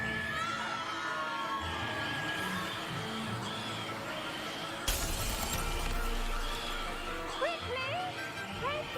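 Mandrakes scream during a herbology lesson in the video game Hogwarts Legacy, a loud, continuous shrill wailing with layered squealing cries and a sudden harsh burst partway through.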